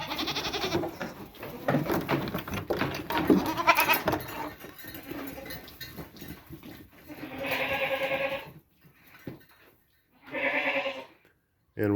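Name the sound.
goats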